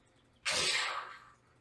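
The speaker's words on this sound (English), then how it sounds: "I sneezed into my hair." A single sharp human sneeze, close and loud, bursting out suddenly and trailing off over about a second against a quiet background.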